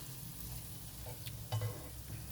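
Ground beef sautéing with onion and garlic in a pan, a soft steady sizzle with a few scraping stirs of a utensil, fairly quiet and close with no talking.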